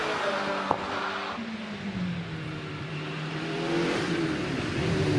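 Early Gould GR37 race car at the Prescott hill climb, its engine note rising and falling with steady harmonic tones as it climbs, then swelling louder toward the end, close and continuous with no talk.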